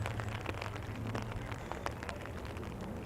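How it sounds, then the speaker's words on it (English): Rain falling on an umbrella at an outdoor high school baseball game, a steady dense patter of drops with scattered sharper taps, close and continuous over a low background rumble. "the subtle sound of the raindrops hitting the umbrella"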